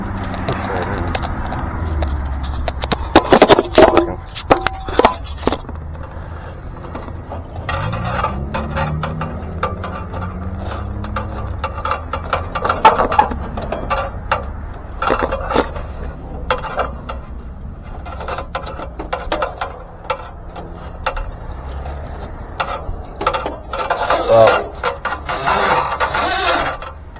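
A cable-driven brush scrapes and rattles inside a pellet stove vent pipe, producing a long run of loud, irregular metallic clatters, scrapes and knocks that come in uneven bursts.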